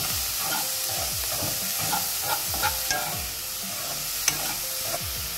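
Bean curry frying in a pan in a home kitchen, stirred with a spatula in repeated scraping strokes over a steady close sizzle.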